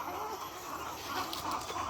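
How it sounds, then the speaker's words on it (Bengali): Several egg-laying hens cluck softly and steadily at close range, their low calls overlapping against a faint background hum. "এগুলো হচ্ছে মুরগি ডিমওয়ালা মুরগি"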